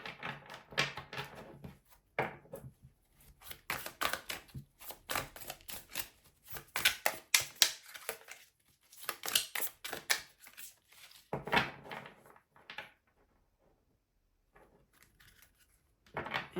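A deck of tarot cards being shuffled by hand, with bursts of crisp riffling and papery slaps in uneven, repeated runs, close and quiet, separated by short pauses.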